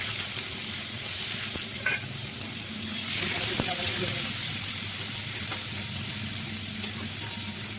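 Onions frying in a pan with oil, a steady broadband sizzle with occasional stirring scrapes, close and moderately loud.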